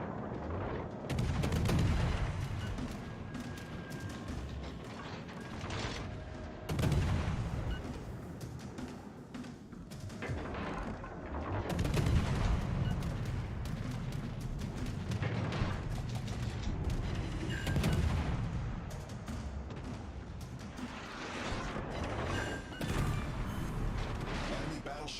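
The battleship King George fires high-explosive shells in World of Warships Legends, with repeated heavy booming salvos at intervals under ongoing game noise and a voice speaking.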